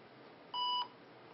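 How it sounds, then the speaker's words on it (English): An IBM ThinkPad 380XD laptop gives a single short, clean electronic error beep at startup, a bright tone lasting about a quarter second against a faint background hiss. "it's gonna beep at me and say this"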